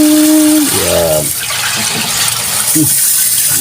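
Water gushes from a faucet fed by a water pump, a loud steady rush of flow with brief harmonic tones at the start and occasional voices over it.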